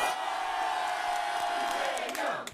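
A crowd at a Democratic Party campaign rally in Seoul's Yangcheon-gap district lets out a sustained loud cheer and shout, held for a few seconds before it cuts off abruptly.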